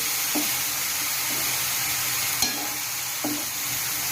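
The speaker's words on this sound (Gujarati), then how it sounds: "હવે જે આપણે કાપીને મૂક્યા હતા ગલકા એ નાખી દઈશું અને હવે આને આપણે સારી રીતના મિક્સ કરી લઈએ" Chopped ridge gourd being stirred in a hot oiled pan, a steady soft sizzle with a few brief scraping knocks of the spoon against the pan, close and alone without speech.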